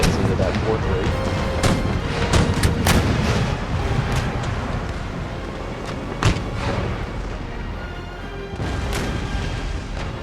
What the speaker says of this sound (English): Firing at that 4th rate there, guys.